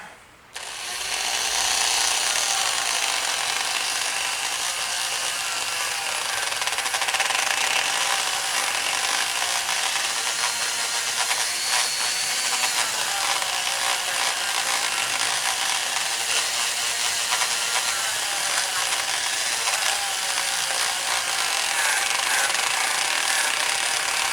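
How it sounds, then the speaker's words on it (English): A wire wheel spun at low RPM scrubs the grooves of a hydraulic cylinder part from a Kubota MX5000 loader cylinder, a steady, close, loud abrasive whir and scratching that runs continuously, alone. "just with a wire wheel. If it was plugged in. There we go, a little bit of power."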